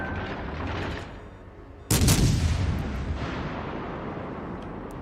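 A warship's main guns fire a salvo in World of Warships, a single loud booming blast that cuts through a low engine rumble and rolls off into a long fading echo.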